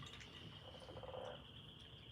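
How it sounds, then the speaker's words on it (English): Bullfrog croaking in a short burst of low throaty pulses at the centre, faint and somewhat distant over a steady insect-like drone. "No, that's a bullfrog."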